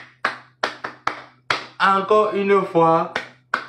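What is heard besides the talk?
clapping hands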